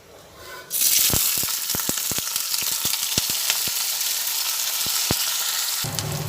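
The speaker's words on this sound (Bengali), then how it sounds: "পেঁয়াজ দিয়ে পেঁয়াজটা ভাজা হতে হতে" Chopped onions hit hot mustard oil with a sudden loud sizzle after a quiet start, then fry steadily with crackles and spatter pops throughout, easing slightly at the end.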